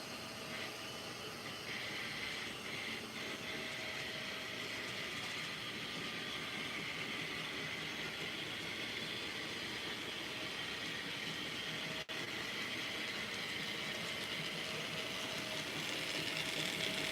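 A train with boxcars rolls along the track in a steady, moderately distant rumble with faint clanking, continuous and without talk.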